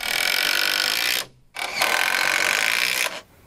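A 3.5 inch framing screw driven into wood with a power driver, two loud whirring bursts separated by a short pause, close and alone.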